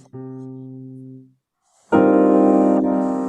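Two sustained piano chords: a softer, lower one rings and fades, then after a brief pause a brighter, fuller chord with its lowest note, a C, raised an octave sounds with open spacing.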